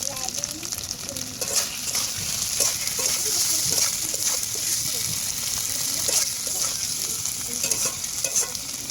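Fried potatoes are stir-fried with spices in a pan, a steady close sizzle broken by repeated scraping stirs of a spatula, with a voice speaking over the cooking.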